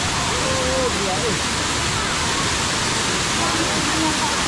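Kuang Si waterfall in Laos roars loudly and steadily as a dense, continuous rush of water, with faint voices under it.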